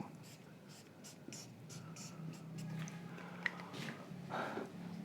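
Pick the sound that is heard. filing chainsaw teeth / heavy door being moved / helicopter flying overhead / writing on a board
writing on a board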